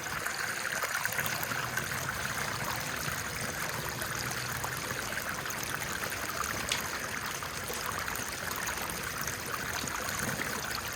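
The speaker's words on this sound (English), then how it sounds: "sluice running just right" Water rushing steadily through a hobby gold mining sluice outdoors, a constant close wash and trickle that holds evenly throughout with no voices.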